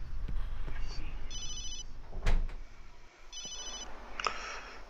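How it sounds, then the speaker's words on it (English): Cell phone ringing inside the horror video game Obscure, two short electronic ring bursts a couple of seconds apart over a low game ambience, with a sharp thud between them. "I should have turned off my cell phone."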